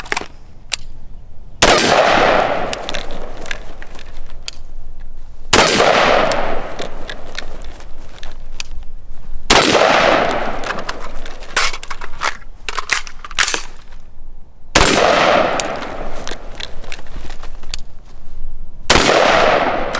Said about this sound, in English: shoot accurately. 1 shot per station.